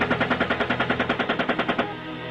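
A helicopter-mounted machine gun fires one steady, rapid burst of about seventeen evenly spaced booming rounds lasting under two seconds, then stops, leaving a dull background rumble.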